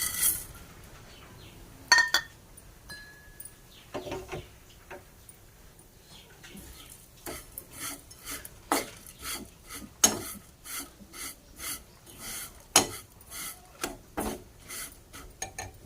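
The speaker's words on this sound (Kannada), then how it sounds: "ಇವಾಗ ಶಾವಿಗೆನ ಹುರ್ಕೊಳ್ಳೋಣ ರೀ." Dry vermicelli (shavige) being roasted in a pan with a spoon of ghee, giving rhythmic scraping and rasping stirs that grow steadier and more frequent after a quiet start.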